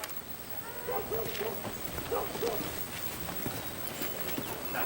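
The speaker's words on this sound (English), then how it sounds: "That's a fine horse, all right." A horse's hooves clop in short, irregular bursts at moderate distance over a steady outdoor background hiss, with no talk during the sound.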